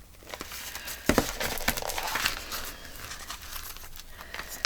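Paper sack material being cut, with crinkling and tearing rustles of paper, a couple of sharper snips near the start, then steady close crumpling noise with no talk.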